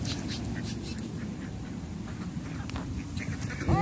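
Ducks are fed bread beside the water outdoors. Their quacking mixes into a steady, noisy outdoor background, fairly close, with a louder burst at the very end.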